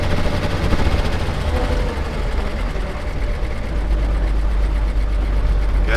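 A 1941 Chevy Coupe engine runs while driving, a loud continuous rapid rattling drone heard from close inside the car.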